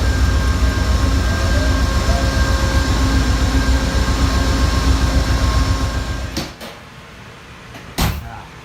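Steady low rumble and hum inside a moving Amtrak Cardinal train at the very back of the train, with faint tonal whines, then the noise drops and a couple of sharp knocks follow.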